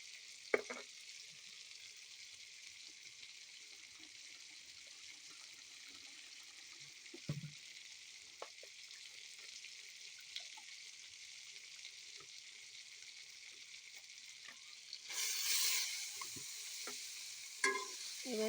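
Boiled noodles being stir-fried with sauce in a home pan, a steady soft sizzle running throughout with occasional scrapes and clinks of stirring, growing briefly louder and busier near the end.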